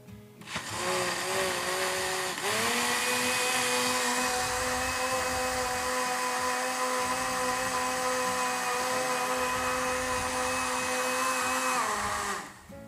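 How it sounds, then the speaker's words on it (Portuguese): A kitchen blender whirs steadily as it purees a lamb marinade with oregano and salt, starting with a short burst, pausing briefly, then running loud and even for about ten seconds before spinning down, with no talking. "E aí bate tudo no liquidificador."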